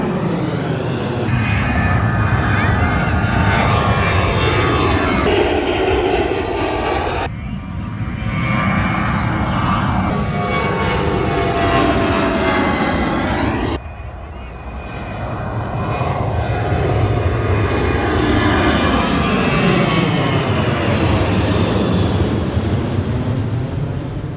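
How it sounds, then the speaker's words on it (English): Jet airliners taking off from the runway at Reagan National Airport, heard from just below the runway's end, a loud continuous roar that swells and shifts over several passes, overwhelming all other sound. "directly below the end of the runway, where you can watch all the planes take off from up close"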